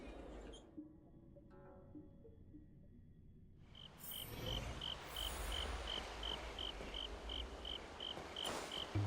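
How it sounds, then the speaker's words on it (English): Crickets in Genshin Impact, a high, evenly pulsed chirping that starts partway through and carries on over a soft ambient bed, fairly faint with no talk. "we can hear the crickets chirping"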